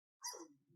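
A single sharp dog bark, close and loud, trailing off into a brief lower grumble after a moment of silence.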